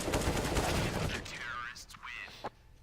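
Gunfire in a CS:GO esports match on the map Mirage, a dense burst of rapid shots at the start that thins out, with in-game effects and ricochet-like whines following.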